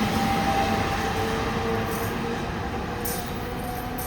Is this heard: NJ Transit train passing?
yes